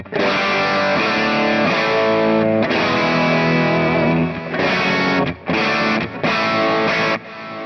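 Heavily distorted electric guitar chords through a Kemper profile of a Dr Z amp ring out loud and sustained, with several sharp stops and restarts near the end.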